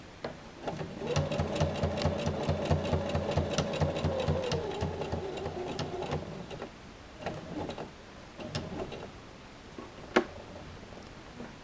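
A sewing machine stitches along the edge of a pocket in a fast, even needle rhythm for about five seconds, stops, then gives a few short, slower bursts, nearby and alone.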